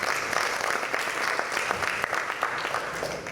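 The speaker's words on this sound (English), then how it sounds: "let's give them a round of applause for the Hall leaders" Audience applause for hall leaders at an annual general meeting, sustained dense clapping from a crowd filling the whole stretch at even loudness.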